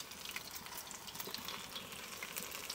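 Oyster mushroom accra fries in a very hot pot of oil, giving a steady close hiss and crackle with no voices.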